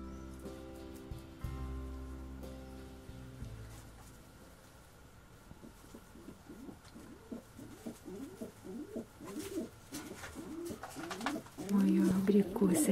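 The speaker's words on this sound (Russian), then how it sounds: "давайте посмотрим, что сейчас делают мои голуби" Pigeons in a dovecote coo in soft, repeated rolling calls that grow busier and louder toward the end, over a faint patter and low background hum.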